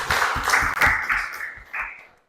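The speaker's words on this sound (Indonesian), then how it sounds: "Tepuk tangan buat Erinda." Applause from a classroom or seminar audience thanking a student, Erinda, for her question, with scattered claps rising and falling over about two seconds before fading out.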